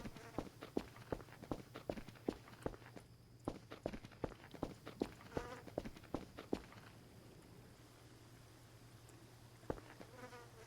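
Bugs in the video game Voices of the Void make faint buzzing with rapid clicking pulses, a quiet rhythmic series of ticks over a low steady hum that thins out and fades midway.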